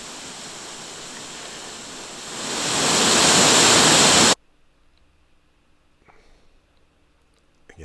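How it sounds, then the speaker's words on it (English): Waterfall in the Costa Rican jungle, a steady broad roar of falling water that swells louder over the first four seconds and then cuts off abruptly into near silence. "This waterfall was one of the nicer ones there."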